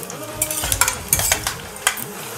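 Cashews frying with cloves, cinnamon and black pepper in a pan for masale bhaat, with a close steady sizzle broken by repeated sharp spatula scrapes and clinks as the nuts are tossed, no talking.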